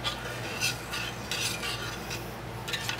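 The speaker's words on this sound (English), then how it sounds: "what I'm doing is I'm just stirring this up a little bit" A utensil stirs homemade sugar syrup in a pot, giving a steady close scraping swirl with a few louder sweeps and no talking.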